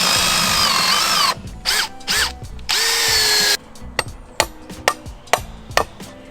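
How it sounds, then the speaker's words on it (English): An 18-inch, half-inch power drill bit bores through wooden half lap joints during a backyard shed build, sounding as loud bursts of whirring drilling followed by a series of sharp knocks and taps, close and without talking. "This is an 18-inch, half-inch drill bit. So it goes through the half lap joints there."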